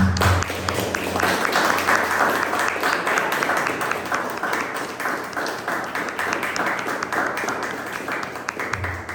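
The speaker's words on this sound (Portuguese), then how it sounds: "Vamos aplaudir o nome de Jesus." A church congregation applauds together during a worship service, sustained dense clapping filling the room for several seconds, with faint voices mixed in beneath it before the applause tapers toward the end.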